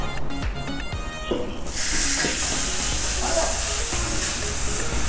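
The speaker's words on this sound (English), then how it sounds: "Let's hear this sizzle." Loud, steady hissing sizzle of steak on a hot griddle, starting after a brief clatter and continuing broadband and close throughout.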